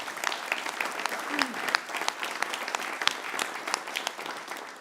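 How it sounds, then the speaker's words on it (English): A crowd at the grand opening of a welcome and education center applauds steadily throughout, with dense clapping and a few sharper claps standing out, moderately loud and close. "How about a round of applause for that?"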